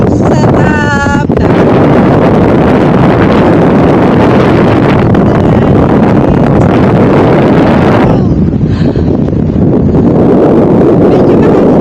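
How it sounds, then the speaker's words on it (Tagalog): Strong wind buffets the microphone in a loud, continuous roar high up in the open air, with a brief voice fragment near the start and the gusting easing slightly toward the end. "Medyo mahangin sa Turalyon kasi naman eh talaga namang medyo mahangin"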